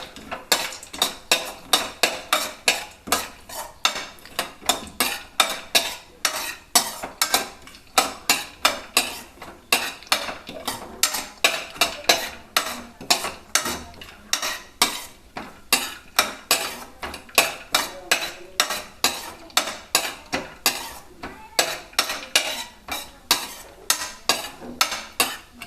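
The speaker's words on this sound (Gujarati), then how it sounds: "તો હવે આપણે આ ડ્રાયફ્રૂટને એમાં તળી લેશું।" Dry fruits fried and stirred in hot ghee for bread halwa, heard as a continuous rapid clatter of a spoon scraping and clinking against the pan, fairly loud and close, with no talking.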